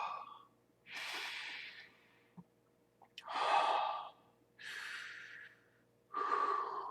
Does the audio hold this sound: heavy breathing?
yes